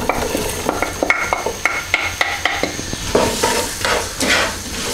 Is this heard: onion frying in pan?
yes